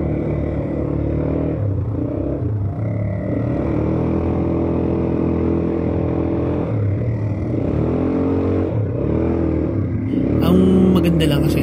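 A four-wheel-drive ATV engine runs steadily on a dry dirt trail at an adventure park in San Mateo, Rizal, with a loud continuous drone and slight revving near the end.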